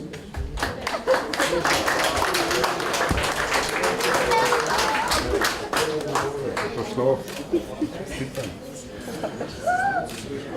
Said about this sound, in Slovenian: En velik aplavz za bivšo kraljico in pa še večji aplavz za bodočo kraljico